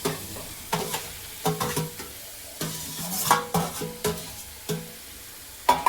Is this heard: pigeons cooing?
no